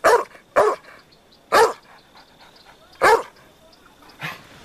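A dog barks five times in sharp, separate bursts spaced about a second apart, loud and close, the last bark slightly softer, with quiet background between barks and no speech.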